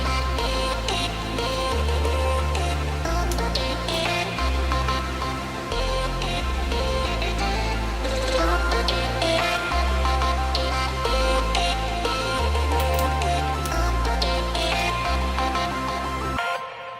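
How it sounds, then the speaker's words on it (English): The drop section of an electronic music remix plays loud and full, with a pulsing stepped bass line under layered chords, vocal chops and bright synth leads that run continuously. "this drop section sounds like this"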